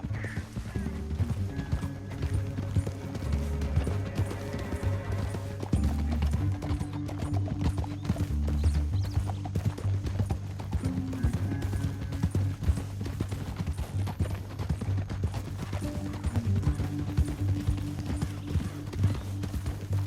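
Horse hooves clip-clop steadily in Red Dead Redemption 2, a continuous rhythmic trot heard alongside a low droning game soundtrack, with no speech.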